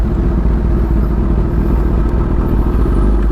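Raw onboard engine sound of a Kawasaki Ninja ZX-10R motorcycle, a steady, loud, close rumble held throughout with no talk over it.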